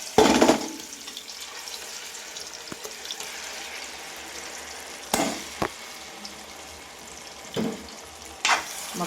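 Ground gongura leaves fry in oil for an Andhra-style pickle, a low, continuous sizzle broken by a few louder bursts of stirring and clatter, with no speech.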